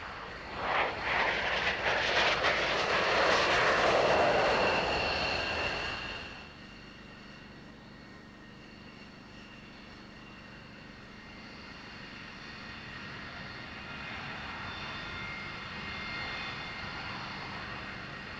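B-2 stealth bomber passing at a 1999 British airshow, a loud rushing jet roar swelling and peaking early, then cutting away to a low, quieter distant rumble that builds slightly again near the end.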